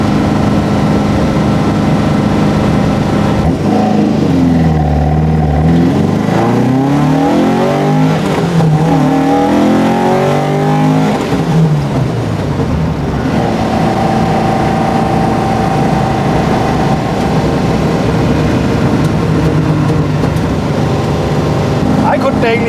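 An Alfa Romeo 33 race car drives on a public road, its engine droning loud and steady throughout, with pitch sweeping up and down as it revs through bends; a person talks over the engine noise.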